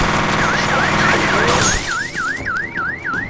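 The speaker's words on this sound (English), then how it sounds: "Oh, alarm!" Alarm siren in the video game F.E.A.R. Perseus Mandate, a steady run of rapid rising-and-falling electronic whoops that grows more prominent after the first couple of seconds, layered over dense game noise.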